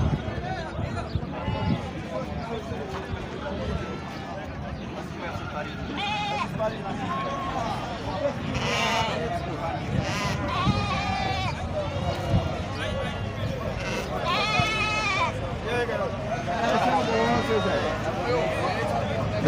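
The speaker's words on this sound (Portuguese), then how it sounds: "Olha, gente, aqui tem um lotezinho de ovelhas." A small lot of sheep at a goat and sheep livestock fair in Sumé, Paraíba, bleats repeatedly in overlapping calls, moderately close, under steady crowd chatter and people talking nearby.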